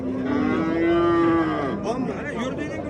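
A dairy cow, sold at a livestock market with her week-old bull calf at foot, lets out one long, loud moo lasting over a second, followed by fainter lowing and shuffling.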